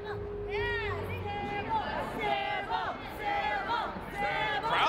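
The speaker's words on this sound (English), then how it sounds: "Crowd chiming in there" Spectators at a wrestling match cheer and yell after the bout, a dense wash of raised voices with individual shouts rising over the babble, steady and fairly close throughout.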